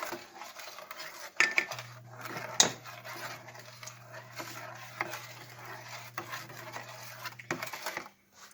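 Hot dog chili sauce being stirred in a pot, a spoon scraping and clinking against the metal in a steady run of scrapes with a few sharper knocks, close and fairly quiet, with a low steady hum beneath.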